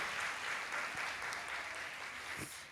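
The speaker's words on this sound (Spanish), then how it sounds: "Un aplauso para ellas, gracias." Quiet, steady applause from an audience at a community gathering, clapping for the families and spread evenly across the clip, fading slightly toward the end.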